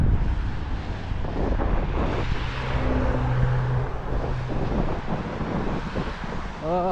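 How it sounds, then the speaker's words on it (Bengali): Cold wind blows hard across the microphone during heavy snowfall in New York, a steady broadband roar with low buffeting rumble that runs unbroken through the whole stretch, loud and close with no talk. "আবার কনকনে হাওয়া শুরু হয়েছে"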